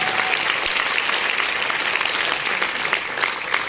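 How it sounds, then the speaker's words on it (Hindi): A crowd at an achievers' ceremony claps loudly and continuously, a close, busy wash of hands that holds steady throughout without speech. "मिस्टर अमरपाल पटेल, मैं चाहता हूं उनके सम्मान में जोरदार तालियां।"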